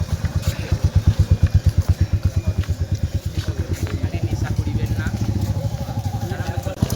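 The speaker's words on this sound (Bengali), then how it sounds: "ও এখানে পুরো বাইক ঢুকিয়ে দেয়" A motorcycle engine runs close by with a rapid, throbbing put-put rhythm near a riverside temple, loud at first and then settling into a steady drone.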